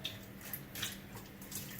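Distilled vinegar pours over raw chicken as a faint, steady liquid trickle with light splashy flecks, quiet and alone for about two seconds.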